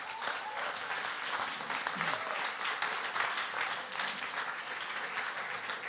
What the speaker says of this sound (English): Can I have a huge round of applause for Peter Galen, please?